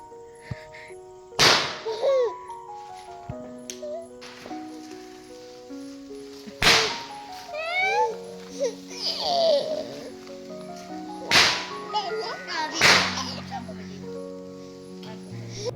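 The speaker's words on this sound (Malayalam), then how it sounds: "താഴത്തെ വീട്ടിൽ നിന്നുള്ള പടക്കം പൊട്ടിക്കലും" Several sharp firecracker bangs burst out at intervals during Eid celebrations, some sounding near and others farther off, amid background chatter and a voice.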